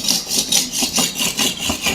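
A sickle blade is stroked back and forth on a coarse whetstone in a steady, close rhythm of about eight gritty scraping passes, each rising and fading, with no talking.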